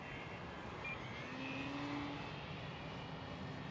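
An E-Flite Extra 300 RC model airplane makes a flyby, its faint, distant motor whine swelling slightly and then easing off against a soft background hush.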